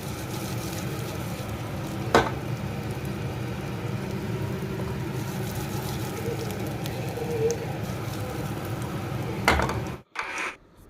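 Coconut frying separately in a pan in a home kitchen, giving a steady close sizzle under a low rumble, broken by a couple of brief clinks and ending abruptly.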